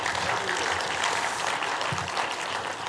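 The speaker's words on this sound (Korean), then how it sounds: "김혜재 장로님만 일어나셔서 박수 한번" Attendees at a church prayer forum give a steady, fairly distant round of applause, an even wash of many clapping hands that continues for about three seconds.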